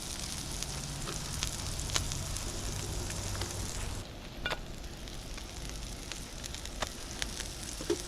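Tortillas sizzle steadily on a hot cooking gadget beside lime, a continuous crackling hiss with small pops and a brief dip midway, no talking.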